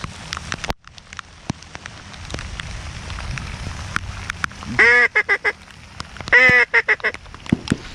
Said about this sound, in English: Rain's starting to let up here.